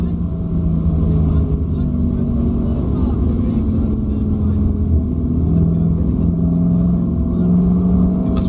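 A race car engine on a track, heard from the cockpit as a loud, steady droning rumble with slight pitch shifts as the throttle changes, continuous for the whole stretch.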